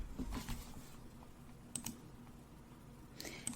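Fingers tap out a short run on a computer keyboard, quiet close-up clicks in small bursts with pauses between them and no voices.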